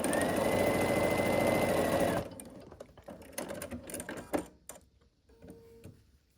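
A sewing machine runs fast and evenly for about two seconds, stitching a red and a white fabric rectangle along one long side for a quilt block, then stops, followed by light clicks and handling noises.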